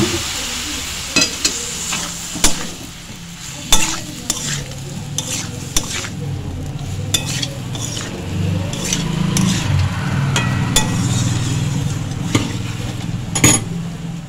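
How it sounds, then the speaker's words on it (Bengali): A pan of mustard potato curry sizzles and fries on a gas stove while water is poured in, a steady hiss with scattered sharp clinks and scrapes of stirring over the whole stretch. "এখানে অল্প একটু আমি জল দিয়ে দিচ্ছি, বেশি জল দেবো না"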